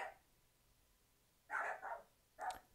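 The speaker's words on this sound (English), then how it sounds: "Dogs. Dogs." Small dogs give two faint, brief yaps with a pause between them, somewhat distant against a quiet room.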